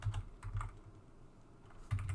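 Keys clatter on a computer keyboard as code is written and saved during a programming lecture, with short bursts of clicking at the start, middle and end separated by a quieter pause, close and moderately loud, with no talking.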